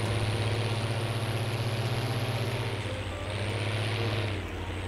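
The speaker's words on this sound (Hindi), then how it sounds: "स्लिप कर रहा है यार थोड़ा सा ट्रैक्टर" Tractor engine labouring as it slips under a heavy load in a farming video game on an Indian farm map, a steady loud low drone with a high whine, dipping briefly near the end.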